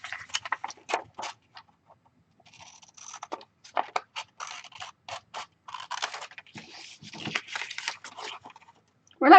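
Scissors cut through paper for a DIY mini notebook in a series of short, crisp snips and rustles, some quick bursts and pauses, close and with no talk.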